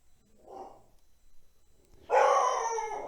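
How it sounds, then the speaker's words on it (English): A faint distant yelp, then a loud, close dog bark with a howling tail that carries to the end. "And there's the dog."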